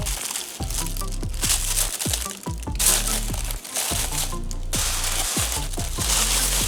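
Close, crinkly bubble wrap packaging around a Chanel item being handled and unwrapped, with repeated crackling and crunching bursts in an uneven rhythm.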